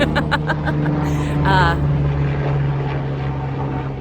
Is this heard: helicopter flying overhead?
yes